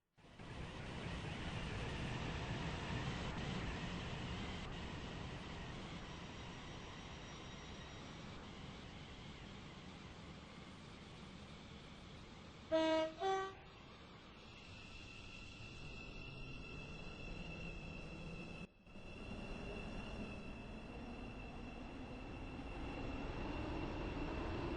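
A train in the Roblox game Stepford Railway runs with a steady low engine drone, broken midway by brief chime tones, then a short dropout and a resumed hum with faint whine.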